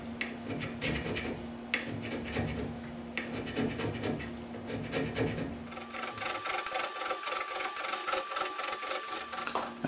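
A power scraper works the surface of a straight edge blank, a continuous buzzing, rasping drone with a steady hum and a shift to brighter, denser scraping partway through, close and fairly loud.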